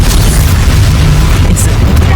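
In the video game Hogwarts Legacy, an Incendio fire spell is cast as a loud, deep, booming burst of rumbling fire. The blast lasts about two seconds, with a voice heard faintly under it.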